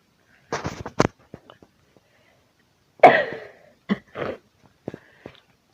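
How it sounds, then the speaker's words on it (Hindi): Several close coughs and a throat clearing from one person in a quiet room: a double cough, then a harsher hacking burst a couple of seconds later, followed by smaller coughs. "आज मुझे खांसी लगी हुई है, इस वजह से थोड़ा सा इशू हो रहा है।"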